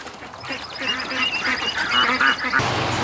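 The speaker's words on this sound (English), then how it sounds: "Okay, all the ducklings went inside." Ducks and ducklings quacking by a creek on a small hatching farm, a steady run of nasal quacks at moderate distance, with brief rustling at the end.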